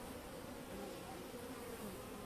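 Honey bees at a weak colony give a steady, continuous hum, soft and close, filling the whole stretch without a break and with no voices.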